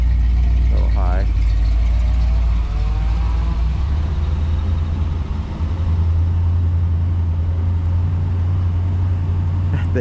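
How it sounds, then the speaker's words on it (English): A 1976 Corvette V8 idling slightly high on purpose after sitting ten years, a steady close, loud low rumble throughout with a brief faint whine near the start. "Obviously a little high idle, but I have it tuned up on purpose."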